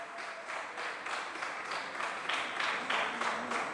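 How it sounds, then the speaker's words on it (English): Moderate audience clapping at a national conference, a steady patter of many hands at medium distance, slightly swelling toward the end. "Now you are clapping"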